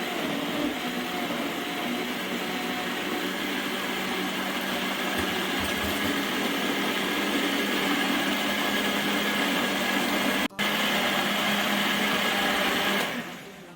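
A blender whirs steadily, blending chicken tortilla soup, with a loud continuous motor drone that holds for about thirteen seconds, drops out for a moment near the end, resumes briefly, then stops.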